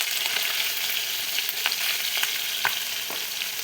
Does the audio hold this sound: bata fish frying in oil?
yes